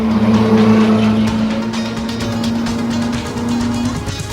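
A Ferrari sports car on a mountain road in the Alps, its engine a steady loud hum with a sustained droning tone that fades slightly toward the end, heard alone without talk.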